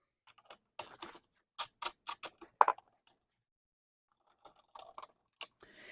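Sharp ratcheting clicks from a 10 mm socket wrench loosening a bolt on the coolant reservoir of a Kawasaki Vulcan 750 motorcycle, two short bursts separated by a pause, close and fairly quiet.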